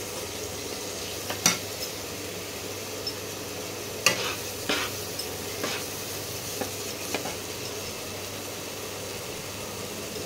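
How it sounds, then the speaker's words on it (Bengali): Spice paste being stir-fried in a pan with water from rinsing the mixer jar, for a banana-flower dopeyaza; a steady low sizzle with occasional sharp scrapes and clinks of the spatula against the pan, close and alone. "মিক্সিটা ধুয়ে যে জলটা আমি দিই মশলা করার পর, সেই জলটা দিয়ে মশলাটা কষাচ্ছি।"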